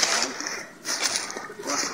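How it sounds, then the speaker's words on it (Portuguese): A river of clear water running past an old house in the woods, a steady broadband rush with soft splashes, close and continuous throughout. "É um rio."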